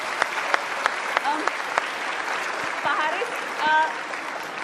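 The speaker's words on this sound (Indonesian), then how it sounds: "Oke, baik kita kasih tepuk tangan dong untuk Kinal." A studio audience on a television talk show applauds, producing a steady, moderately loud wash of clapping while people talk and call out over it.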